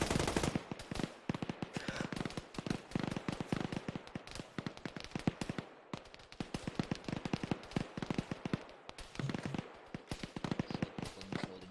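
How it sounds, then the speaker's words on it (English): Rapid machine gun fire in the ARMA 3 video game during a squad battle, with dense, overlapping bursts and shots rattling almost continuously and loudly through the whole stretch. "3-4's got both their MGs working on that white smoke now"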